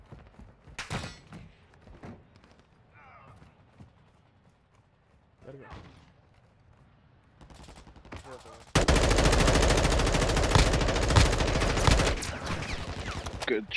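Gunfire in the Call of Duty DMZ video game on Ashika Island: scattered sharp shots early on, then a sustained loud burst of rapid automatic fire near the end, with players talking over parts of it.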